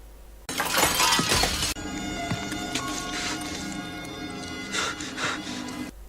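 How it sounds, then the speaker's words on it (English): A window pane smashes loudly in a scene from the dark fantasy action film The Crow: Salvation, a sharp burst of breaking glass followed by a lingering tinkle of shards over a steady musical score. "He makes his way back to his friend's place, smashing a window."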